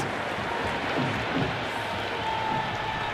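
A cricket stadium crowd at an RCB vs GT IPL match roars and applauds in a dense, continuous wash of sound that stays loud throughout.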